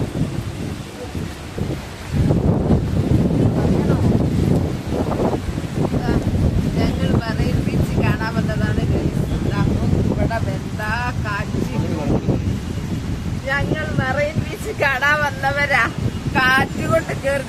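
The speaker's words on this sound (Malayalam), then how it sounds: "ഇവിടെ മഴയല്ല കാറ്റ് അങ്ങോട്ട് പോവാൻ തന്നെ കഴിയില്ല" Strong wind blows at a Chennai beach, a loud continuous roar and buffeting against the microphone with a few gusty surges, while people talk over it.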